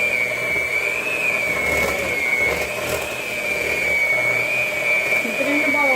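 An electric mixer whirs steadily at high pitch while mixing peanut butter cookie dough, a loud continuous drone with slight wavering and a few knocks against the bowl, and voices talk over it.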